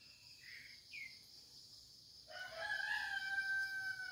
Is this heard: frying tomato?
no